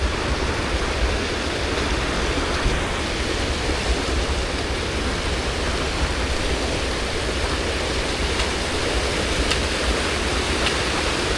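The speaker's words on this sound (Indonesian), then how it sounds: "Ini sungai Logawanya." The Logawa river flows past in a steady, full rushing of water, a dense continuous wash heard close with no pauses and no voices.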